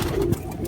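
A purebred female pigeon coos softly in a rooftop loft, a low, brief throaty murmur close by against faint background noise.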